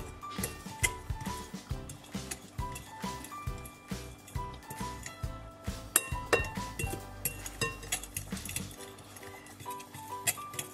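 Almond powder and chocolate whey are stirred together in a bowl, making repeated clinking and scraping taps at a steady, fairly quick rhythm, close and moderately loud, with occasional speech in the background.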